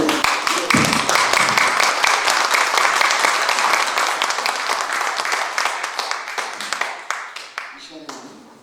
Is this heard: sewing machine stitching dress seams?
no